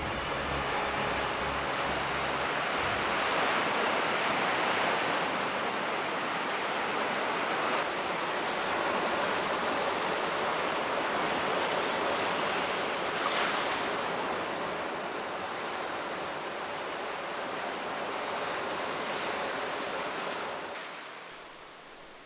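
Ocean waves crash steadily on a shore where red crabs shed their eggs, a dense continuous roar of surf that swells and eases slightly before dropping away at the end.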